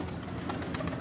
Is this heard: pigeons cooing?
yes